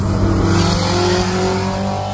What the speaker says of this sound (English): the COBB Titanium offers a mellow tone without making your ears bleed, even on a catless downpipe or an equal length header